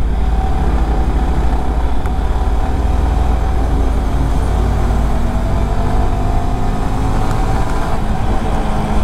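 Steady engine and exhaust drone from a motorcycle out on a weekend ride, loud and continuous with road and wind rumble, no talking.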